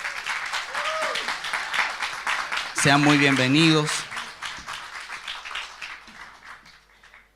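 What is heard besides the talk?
church congregation applauding visitors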